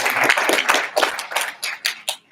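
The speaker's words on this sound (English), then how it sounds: "Maybe a big round of applause." Applause at an ethical leadership summit, a small audience clapping in uneven bursts that thin out into a few separate claps as it fades over a couple of seconds.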